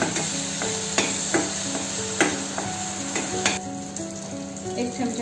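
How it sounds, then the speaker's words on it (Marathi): A fine spice paste fries in hot oil for a fish curry, with a continuous close crackling sizzle and scattered sharp pops and clinks from stirring. "हे छान तेलामध्ये फ्राय करून घेऊ."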